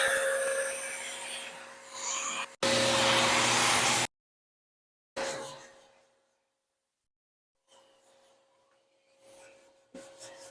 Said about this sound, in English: So I'm going to power this up. That's my dust separator.